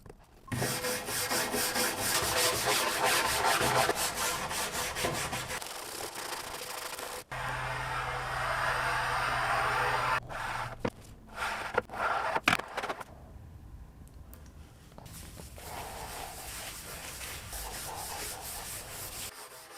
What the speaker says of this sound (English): I decided to sand using my random orbital sander